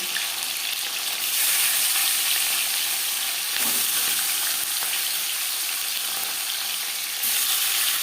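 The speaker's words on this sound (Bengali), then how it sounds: "4 চামচ রিফাইন্ড অয়েল গরম করে নিয়েছি। এবার দিয়ে দেব ম্যারিনেট করে রাখা মাছ।" Marinated Bhangar river fish hitting four spoons of hot refined oil in a pan: a loud, continuous crackling sizzle that swells as the pieces go in and stays steady, close and without talk.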